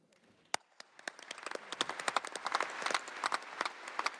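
Applause for Angela Rayner taking the stage at the Labour Party conference: scattered claps begin, then swell into a fuller, continuous round of hand-clapping from the hall audience, fairly distant and fading slightly near the end.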